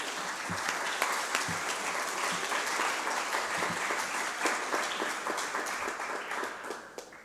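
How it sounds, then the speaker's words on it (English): Sustained applause from the audience at a public speaking competition, steady and full throughout with dense overlapping claps. "can we give them a resounding round of applause?"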